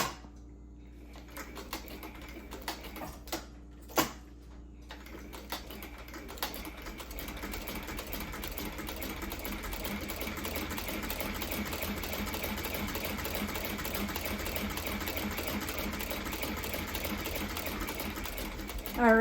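Sewing machine stitching a leather crown strap for a headstall, starting with a few slow, separate needle strokes, then settling into a steady, continuous rattling run of stitches at close range.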